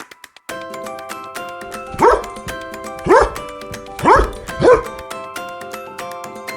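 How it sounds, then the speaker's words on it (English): A dog barks four times at roughly one-second intervals, loud and close, over steady background music. "A dog."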